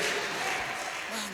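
A church congregation claps and applauds in praise of God, a dense continuous wash of clapping with voices speaking over it.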